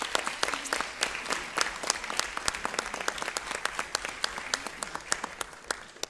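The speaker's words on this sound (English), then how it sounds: "So how about a big round of applause for all three teams on outstanding seasons" Audience at a school board meeting applauding three school sports teams, a steady, dense run of many hands clapping with crisp individual claps standing out, sustained at even strength before easing slightly at the end.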